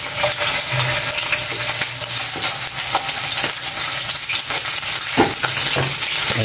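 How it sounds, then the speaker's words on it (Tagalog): Chicken liver frying in a pan with a steady, dense sizzle, with occasional scrapes and clinks of a utensil stirring, close and loud. "Atay ng manok. Prito."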